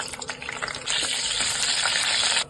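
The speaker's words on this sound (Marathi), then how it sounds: "आता हे सर्व कढईमध्ये टाकत आहे" Whole black peppercorns, green cardamom pods and a dried red chilli hit a hot kadhai, setting off a loud, steady hiss of sizzling oil that holds for about a second and a half before cutting off.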